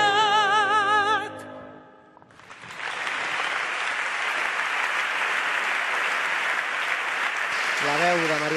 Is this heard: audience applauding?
yes